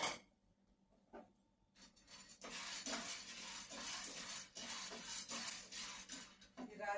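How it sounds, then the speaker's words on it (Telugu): Rajma beans dry roasting in a pan with no oil or ghee, a steady gritty rattle and scrape of beans being stirred against the metal that builds after a quiet start and continues close up. "ఇప్పుడు ఇవి రాజమ గింజలు మనం బాగా వేపేసుకుని తీసేసుకుందాం"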